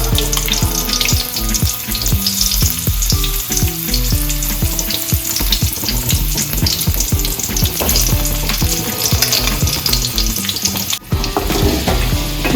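Boiled eggs being stirred and fried in a small amount of coconut oil for an egg curry, giving a loud, steady sizzle with repeated scraping and stirring clatter throughout.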